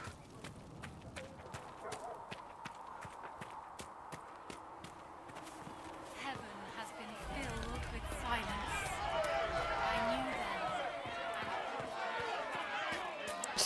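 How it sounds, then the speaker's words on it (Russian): Crowd ambience in the video game Dragon Age: Inquisition, a diffuse murmur of many voices with hoof clip-clop and footsteps, growing fuller and louder in the second half, mixed with speech. "Странно, шум толпы остался, но самой толпы больше нет."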